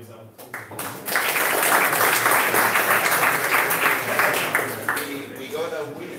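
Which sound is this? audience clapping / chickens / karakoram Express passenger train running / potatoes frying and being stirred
audience clapping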